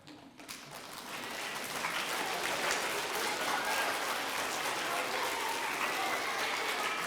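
A large audience at a school Blue Ribbon celebration gives special guests a big round of applause, with steady clapping that swells quickly from scattered claps and then holds loud and dense throughout.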